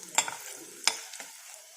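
Peanuts frying with turmeric in a pan while cooking amla (gooseberry) chitrannam, heard as two sharp stirring clacks over a faint, steady sizzle.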